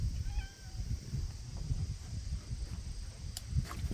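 A mother cat gives a brief, faint meow early on, outdoors during a gold prospecting dredge cleanup, then falls quiet beneath a steady low rumble and soft rustling.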